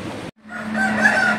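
A rooster brought from Coimbatore in Tamil Nadu crows once, close and loud, a single drawn-out call following a brief cluck and a short pause.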